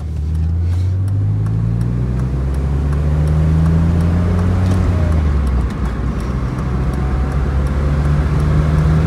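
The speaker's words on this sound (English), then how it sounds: "Z3 BMW, and oh yeah, it's fast. Let me show you its power." A 2001 BMW Z3 sports car engine revs hard and climbs steadily in pitch, drops sharply as it shifts, then pulls again. The sound is loud and close, with steady road rumble underneath.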